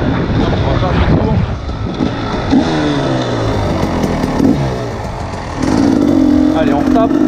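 A Husqvarna 300 TE dirt bike engine drones steadily while riding, its pitch wavering and rising, partly under strong wind rush, with a louder, harder pull in the final seconds.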